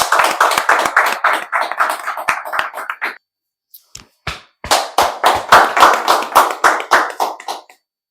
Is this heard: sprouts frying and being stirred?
no